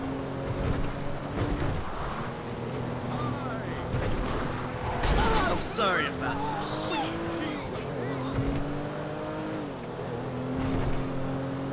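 In GTA V, a motorboat engine roars and whines with rising and falling pitch as it speeds away over water, alongside car engine drone, with voices talking over it.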